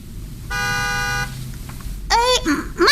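A car horn gives one sustained honk of about three-quarters of a second, followed by a pause, a couple of faint sounds, and then people talking loudly close by.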